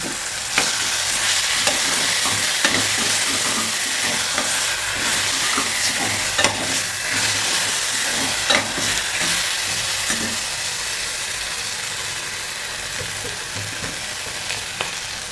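Curry leaves dropped into hot oil in a pan for egg curry, bursting into a loud, continuous crackling sizzle with small pops and spatters throughout, close up and alone.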